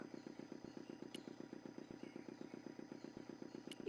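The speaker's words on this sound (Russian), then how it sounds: "теперь вы мотор слышите" A motor running in the game Broken Sword II: The Smoking Mirror Remastered, a quiet, even, rapid chugging pulse that repeats steadily throughout, with no talking.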